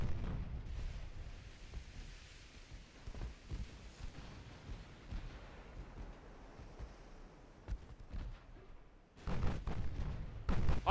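Battleship naval gunfire in the game Ultimate Admiral: Dreadnoughts, a 1930 German campaign, heard as low, rumbling booms over a wash of sea and wind, with a louder burst of heavy firing near the end.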